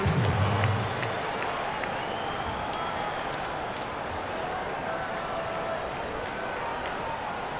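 Crowd noise in the NBA 2K19 basketball video game, a brief loud swell at the start that settles into a steady, continuous arena roar.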